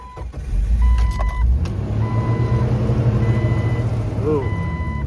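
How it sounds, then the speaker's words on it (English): A Jeep Wrangler with a 4.0L engine cranks and starts, settling into a steady low idle with electronic beeping chimes over it, close and fairly loud. "Now I'll see how the car sounds when I start it."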